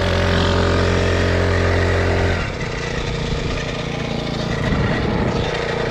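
Blaze 49cc gas scooter engine running loud and close, a steady droning hum that shifts tone partway through as it pulls off for a quick ride around a parking lot.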